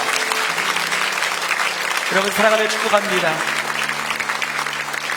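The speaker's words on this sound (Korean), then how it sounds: "함께 일어나신 모든 분들 사랑의 마음으로 축복의 박수하겠습니다" Standing church congregation applauding with blessing after a closing prayer, steady applause throughout while someone speaks briefly over it.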